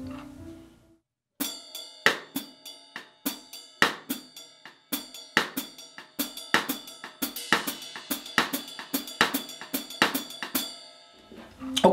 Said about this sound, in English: next we're going to add the hi-hat with the left foot on the first right-hand bell note every time. That sounds like this.